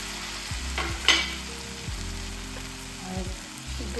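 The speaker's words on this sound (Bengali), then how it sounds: "তেল ছেড়ে দিয়েছে। এবার এতে সব কিছু এঁচোড়, আলু দিয়ে দেবো।" Young jackfruit and potatoes fry in hot oil, giving an even sizzle with a few clattering knocks and scrapes as pieces are dropped in and stirred, with no talking.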